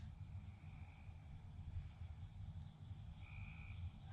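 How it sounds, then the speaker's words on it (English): Faint frog croaks sound from a distance at a night campsite over a low, steady background rumble, with a couple of brief higher chirping calls. "and I can hear the frogs."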